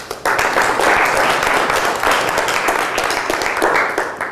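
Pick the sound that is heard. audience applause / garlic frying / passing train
audience applause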